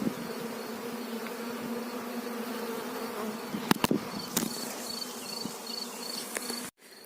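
A small honeybee swarm drones in a steady, close buzz as the bees are gathered onto a hive frame outdoors, with a few sharp knocks and handling clicks cutting through near the end.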